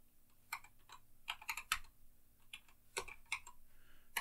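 Credentials tapped out on a computer keyboard: quiet, close clicks in short irregular bursts with brief pauses between, over a faint background hum.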